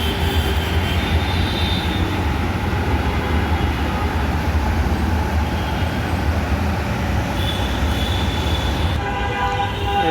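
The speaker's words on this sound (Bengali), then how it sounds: "ওই মেট্রো রেল চলে যাচ্ছে দেখেন" A metro rail train passes at Bijoy Sarani station with a loud, sustained rumble and roar, steady throughout and closing with a brief high whine.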